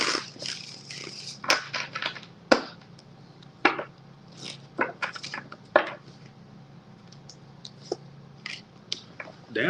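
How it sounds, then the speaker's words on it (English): Tarot cards shuffled in a quiet room, with repeated short riffling and tapping bursts scattered over several seconds, fairly faint against a low steady hum. "One more shuffle, Libra."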